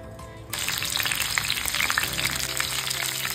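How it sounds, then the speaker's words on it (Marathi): Bitter gourd pieces hit hot oil and start frying, a sudden loud sizzle after a brief quiet start that stays steady and close. "आपण आता कारली फ्राय करण्यासाठी ठेवली आहे"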